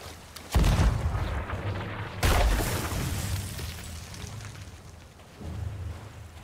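Two loud booming Sea of Thieves cannon shots near Skull Island, a couple of seconds apart, each trailing off into a rumbling roar, with a softer thud near the end.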